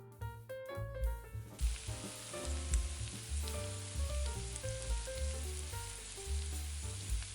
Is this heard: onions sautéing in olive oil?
yes